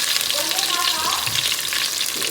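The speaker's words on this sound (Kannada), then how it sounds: "ಎಲ್ಲ ಚೆನ್ನಾಗಿ ಫ್ರೈ ಮಾಡ್ಕೊಳ್ಳಿ" Onions frying in oil in a pan for chicken biryani make a continuous, close sizzling crackle, with a faint scrape of stirring partway through.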